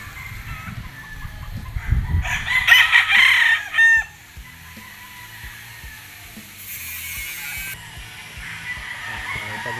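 A Kelso-cross gamefowl rooster lets out one loud, close crow lasting about a second and a half, rising out of steady outdoor background noise and then fading.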